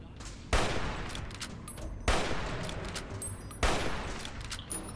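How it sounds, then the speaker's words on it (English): Gunfire in Fallout New Vegas, with three loud, separated bursts of sustained shooting in a roughly even rhythm, each trailing off into a rumbling wash. "Come on, keep shooting it."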